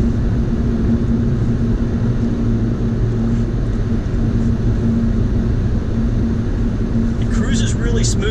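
Hyundai N car accelerating hard while merging onto a highway in regular mode, a steady, loud engine and road drone running continuously from inside the cabin, with some high rattling toward the end.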